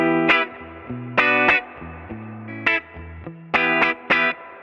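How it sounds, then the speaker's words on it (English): A guitar played through an amp's reverb, switched on via a foot switch routed through a loop switcher, sounds as short distorted chord stabs in an uneven rhythm, each ringing out with a reverberant tail, with no talking. "and there's the reverb."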